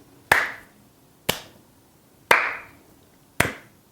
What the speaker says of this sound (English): It's a loud clap, especially since it's probably right in the mic